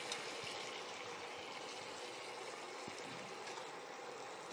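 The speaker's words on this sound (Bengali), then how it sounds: "আচ্ছা, এবার আমি চিকেনটা দিয়ে দেবো।" Raw chicken hits hot masala in a pan while cooking dhaniya chicken, giving a loud, steady sizzling hiss that holds evenly throughout with no talking.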